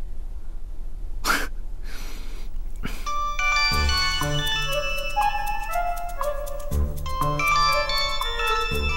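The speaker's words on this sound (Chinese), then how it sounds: "电梯来了，我走了。" Elevator arrival chime, a few soft bright tones after some breaths and rustling, followed by a longer melodic sequence of bell-like electronic notes ringing out clearly in a quiet indoor hallway.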